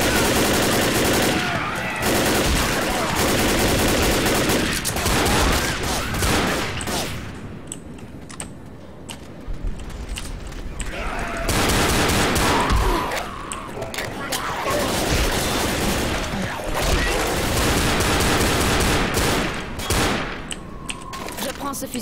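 Rapid bursts of shotgun fire in the zombie shooter Left 4 Dead, loud and repeated in dense clusters with brief lulls, while players talk over the action.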